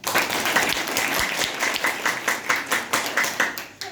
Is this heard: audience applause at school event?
yes